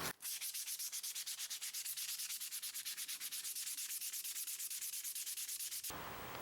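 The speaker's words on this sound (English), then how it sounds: "I'm going to be using 80 grit sandpaper to smooth it out" A hickory axe handle worked with 80 grit sandpaper, steady rhythmic back-and-forth rasping strokes at an even fast pace, close and alone with no talk, ending abruptly.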